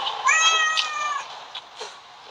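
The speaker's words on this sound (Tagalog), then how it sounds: "Yung pusa, humihingi." A cat meows to beg for food: one loud, drawn-out, rising meow with clear harmonics, then a couple of fainter short calls, close to the listener with no talk over it.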